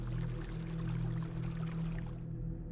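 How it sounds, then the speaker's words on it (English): A stream ripples steadily at night between dark woods, a close, continuous low wash of moving water with no other sounds and a slight fade at the very end. "the only sound I can hear is the rippling of the water"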